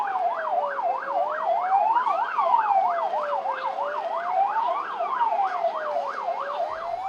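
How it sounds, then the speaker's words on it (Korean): Ambulance and emergency vehicle sirens arriving at a Korean safety drill scene, one rapid yelping wail overlapping a slower rising and falling wail, steady and fairly close, with no talk. "지휘차와 남산대 그리고 중부구조대 구급차가 현장에 진입하고 있습니다."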